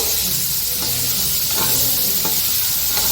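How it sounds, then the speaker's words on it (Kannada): Paneer fries in a small amount of oil with a constant, loud, dense hiss that carries evenly through the whole stretch, broken by a few faint taps from a spatula. "ಪನ್ನೀರನ್ನ ಸ್ವಲ್ಪ ಎಣ್ಣೆಲಿ ಈ ಥರ ಫ್ರೈ ಮಾಡಿ ಇಟ್ಕೋಬೇಕು"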